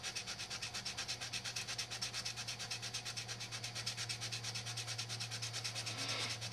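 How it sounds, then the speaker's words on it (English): Rhythmic back-and-forth sanding strokes on the chassis of a 1959 Chevy drag truck, fast and even, rasping steadily throughout with no talking. "let's go in there and do some sanding"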